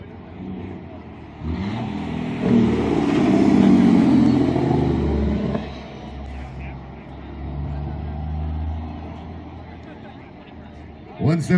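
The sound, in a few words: truck engine brake (Jake brake) in contest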